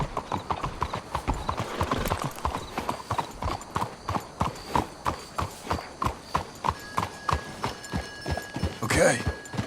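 Horse hooves in Red Dead Redemption 2 clip-clop in a steady trotting rhythm, close and clear, with a brief snort or whinny near the end.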